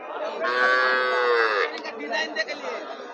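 Cattle at a rural cattle market selling Sahiwal and local bulls and heifers: one loud, close, drawn-out moo lasting about a second, followed by busy crowd chatter and voices.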